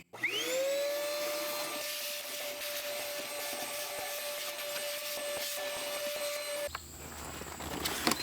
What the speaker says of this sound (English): Now let's go ahead and vacuum it out.